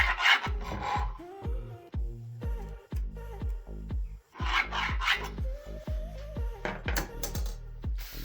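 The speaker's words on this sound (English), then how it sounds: "I'm going to take these reference marks extend them to the edges of this board" A pencil drawn across a wooden board to mark reference lines, giving a series of short scratchy rubbing strokes in a fairly regular rhythm, close and clear with no talk.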